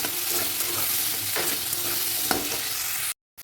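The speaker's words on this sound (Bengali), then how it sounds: "এবার এই দুটো একসঙ্গে আমি ভালো করে ভেজে নেব মশলার সঙ্গে" Brinjal and potato fry with spices in a pan, a dense steady sizzle with a couple of spatula scrapes cutting through, close and even, ending abruptly.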